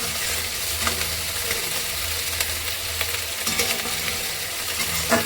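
Onions frying in a pan give a steady close sizzle while a spoon stirs and scrapes now and then, with no talking.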